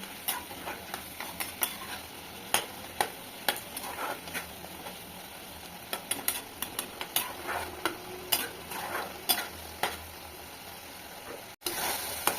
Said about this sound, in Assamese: এতিয়া মই ভাজি থোৱা মাছকেইটা ইয়াত দি দিম, আৰু একেলগে উতলিব দিম